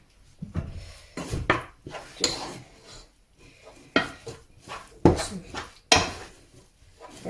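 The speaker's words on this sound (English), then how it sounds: "And then I'm going to get a wooden spoon again." Wooden spoon knocking and scraping in a mixing bowl while making boxty bread, a series of close, irregular clunks and rubbing scrapes.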